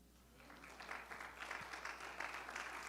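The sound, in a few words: congregation applause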